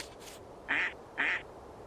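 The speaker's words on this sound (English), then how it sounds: "Pacific black duck" Two short, nasal quacks of a Pacific black duck from the bird game Wingspan, evenly spaced about half a second apart and fairly loud against a faint background.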